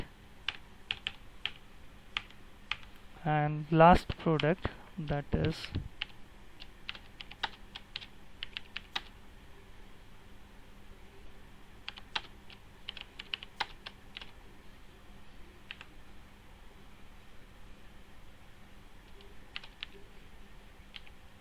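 Keyboard keys clatter in scattered bursts of typing, close and crisp, with a short stretch of someone talking partway through.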